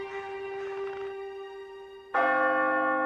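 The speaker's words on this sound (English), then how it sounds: "But throughout the North, church bells tolled for him." Church bells toll with long ringing tones that decay slowly, followed by a second louder strike with rich overtones, clear and resonant with no talk.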